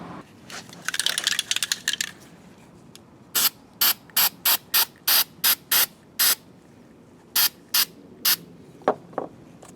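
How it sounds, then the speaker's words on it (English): A can of spray glue rattles briefly, then about a dozen short, sharp hissing bursts of aerosol spray follow in a quick, uneven rhythm, very close. "I'm going to actually spray as a test only on one end"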